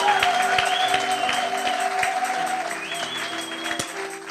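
A church congregation bursts into applause and cheers for the Lord during a French-language worship service on healing, sustained clapping that fades slightly over a few seconds, with no one speaking over it.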